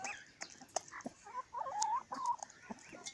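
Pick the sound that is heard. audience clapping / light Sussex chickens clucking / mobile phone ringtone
light Sussex chickens clucking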